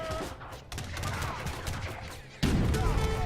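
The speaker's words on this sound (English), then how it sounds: "Oh, that's a cannon." Cannon fire and battle gunfire boom in the video game Age of Empires III, a loud burst of shots and blasts with a sharp, heavier strike near the end.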